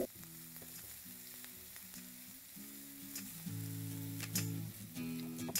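Chopped ginger and green chili frying in hot oil for bread pakora, a steady close sizzle and crackle with a few louder spits.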